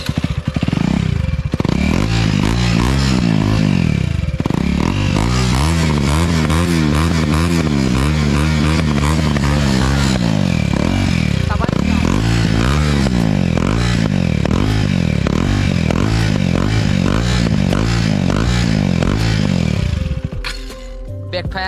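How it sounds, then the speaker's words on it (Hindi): A KTM Duke 250 motorcycle with a modified exhaust revs hard and repeatedly close by, rising and falling throttle blips with crackling pops running continuously for the whole stretch before cutting back near the end. "फायर मारता है, सुना है आप लोग को कैसे साउंड कर रहा है"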